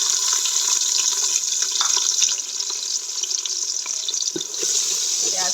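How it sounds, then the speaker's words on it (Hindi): Onions frying in hot ghee in a pot over a wood-fired stove, giving a steady, loud bubbling sizzle with scattered crackles and pops that runs unbroken throughout, with no talking. "घी मेरा गर्म हो चुका है। अब इसमें मैं डालूंगी प्याज।"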